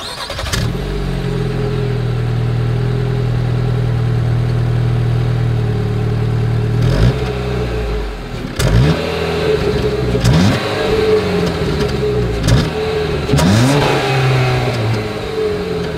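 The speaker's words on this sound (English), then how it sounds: "As always, here is that exhaust clip." Exhaust of a 2023 Jeep Cherokee, heard up close: a loud steady idle is followed by several sharp revs that climb and fall back, repeated at intervals, with no talking.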